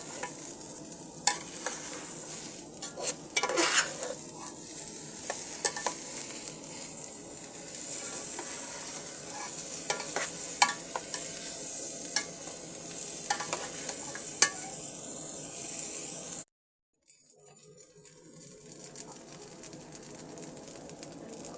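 Ginger-garlic paste frying with rice in a pot for pilaf, a continuous bright sizzle and hiss with scattered stirring clicks and scrapes, cutting out abruptly for a moment near the end before resuming.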